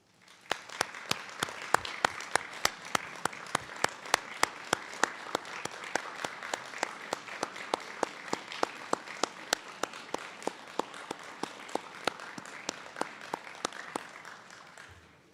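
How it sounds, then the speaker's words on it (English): Sustained audience applause at a graduation celebration for an anesthesiologist assistant cohort, dense steady clapping from a large crowd lasting throughout, fairly even in loudness with no talk over it. "please rise for a moment as we applaud and thank each of you"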